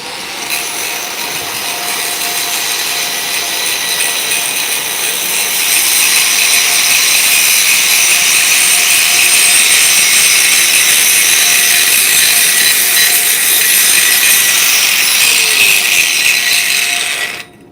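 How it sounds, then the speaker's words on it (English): An angle grinder grinds the face of a TIG weld root, a bright, steady high-pitched whine that holds constant and grows slightly louder partway through before cutting off. "So I just like to tap it, hit it up with a grinder."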